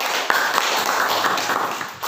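Classroom of pupils applauding after their pantun recitations, a close, steady patter of many small hands clapping together for about two seconds.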